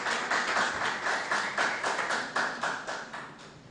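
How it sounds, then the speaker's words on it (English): A modest audience applauds a speaker at a debating society's inter-association anniversary debate. The clapping is steady and moderately loud, with individual hand claps distinct, and it tapers off gradually. "Let's give a round of applause for Mr. Azad Gums, please"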